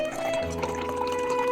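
Rosé wine poured into a glass for a fridge-cleanout cocktail, a steady close liquid pour with light dripping and trickling throughout.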